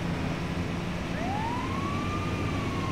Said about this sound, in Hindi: एम्बुलेंस मिल गई मेरे को तो।